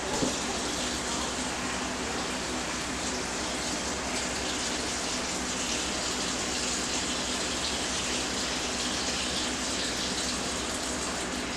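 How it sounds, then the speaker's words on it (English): Water gushing steadily into a pot of sweet potato pieces, a continuous dense rushing splash that holds at an even level and stays close throughout, with no one talking. "I'm going to put some water"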